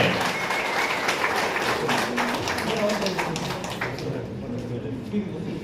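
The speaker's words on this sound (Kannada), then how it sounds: "ಚಪ್ಪಾಳೆ" A crowd at a Kannada film launch ceremony applauds, giving a steady wash of clapping at moderate distance with voices talking through it, tapering off toward the end.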